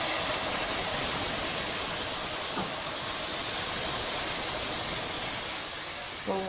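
Steady, dense sizzling hiss from fish stock poured into a hot pan of onions to deglaze, continuous and fairly loud throughout with only slight variation.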